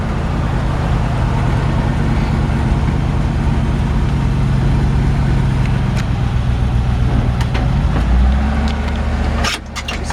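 A 1951 Ford F1 pickup engine idles a touch high, a loud close steady rumble that dips briefly near the end.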